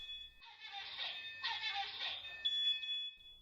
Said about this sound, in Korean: 연기가 피어오르자 곧바로 경보음이 울립니다.